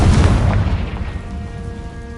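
Spell blasts from the Confringo fire curse in the video game Hogwarts Legacy, a loud booming explosion bursting at once and then rumbling and fading over about two seconds.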